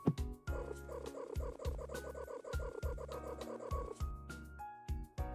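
A cat in the video game Lost & Found Co. purrs in a steady, rhythmic rumble of repeated pulses under tonal game music, close and moderately loud.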